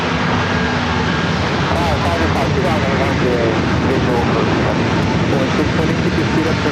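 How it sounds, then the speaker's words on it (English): An Airbus A321neo airliner arriving at San Diego from Honolulu gives a loud, steady jet roar, with a voice talking over it throughout. "coming in from Honolulu, that A321neo"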